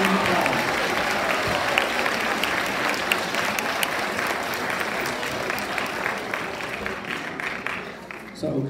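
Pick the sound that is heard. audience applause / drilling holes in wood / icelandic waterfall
audience applause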